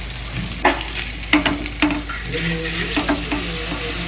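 Pieces of seer fish (vanjaram) sizzle loudly on a flat tawa, with a constant crackle and several sharp scraping taps as the pieces are turned, close up and with no talking.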